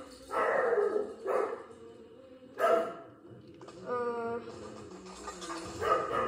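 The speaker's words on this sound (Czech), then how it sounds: "Pes štěká" A dog barks indoors in a few sharp, separated bursts at moderate distance, with a brief whining tone between them against a quiet room background.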